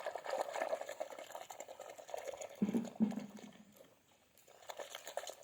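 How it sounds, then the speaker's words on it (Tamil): Hands stirring soap into water to work up foam, faint sloshing and swishing liquid sounds in uneven bursts, close but quiet, fading near the end before resuming. "இப்போ சோப்பு நம்ம கையாலே கலக்கிக்கலாம். நுர வர வச்சு கலக்கிக்கணும்."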